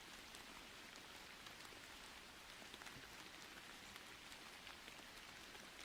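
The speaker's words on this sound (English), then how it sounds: "Should I keep the rain sounds while I'm gone" Steady broadband rain pattering on a surface, played as a continuous ambient backdrop at low volume, even and unbroken with no voices.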